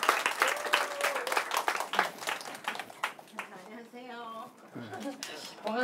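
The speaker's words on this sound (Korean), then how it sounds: "박수" A brief burst of group applause from a small crowd, fading after a few seconds as people start talking over it.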